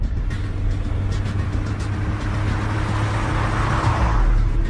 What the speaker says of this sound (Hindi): तुलसी, जल्दी से कार घुमाओ, जल्दी करो